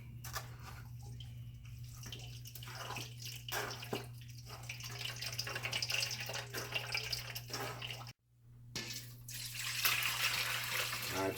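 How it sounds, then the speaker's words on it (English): Watermelon juice pours through a strainer in a soft, steady splashing trickle over a constant low hum, briefly cutting out before the pour resumes more brightly. "just want to go ahead and pour it into a strainer."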